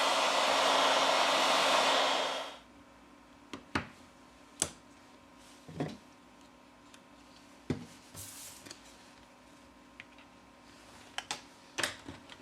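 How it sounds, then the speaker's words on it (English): A heat gun warms the back cover of a Samsung A71 phone, blowing with a loud, steady rush for about two seconds before switching off. Scattered light clicks and taps follow in the quiet. "With the help of a heat gun, we apply 90 Celsius degrees during 4 minutes."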